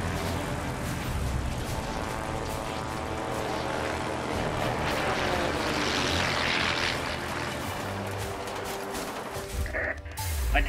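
In a flying video game, an aircraft engine drones steadily and loudly throughout, a sustained propeller-like hum that swells slightly midway, then cuts abruptly near the end.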